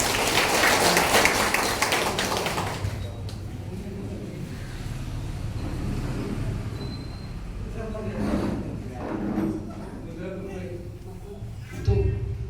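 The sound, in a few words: audience applause at a meeting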